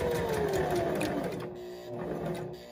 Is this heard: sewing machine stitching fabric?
yes